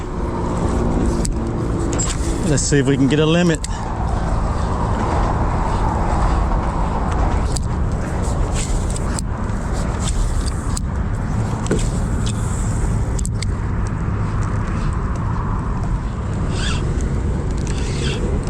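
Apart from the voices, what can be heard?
rush hour traffic on the Matthews Bridge overhead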